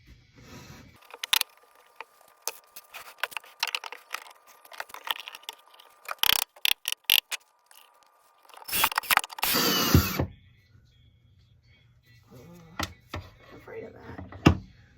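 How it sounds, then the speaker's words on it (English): Screws being driven with Kreg jig pocket-hole joinery to attach a wooden top, heard as short bursts of drill whirring and clicking ratchet sounds between pauses, close by. "we're gonna put the top on via the Craig jig screws"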